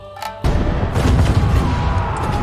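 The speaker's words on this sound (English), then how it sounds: "At 3:55 a.m., the bombardment started." A heavy artillery bombardment opens with a sudden loud boom after a brief quiet moment, then rolls on as a dense, continuous rumble of blasts and crackling fire.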